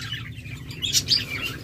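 Pet lovebirds give short, high chirps and tweets in a couple of quick bursts over a low background murmur, fairly close and without voices.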